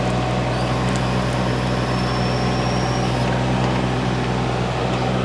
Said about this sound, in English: Man and a tractor. Perfect.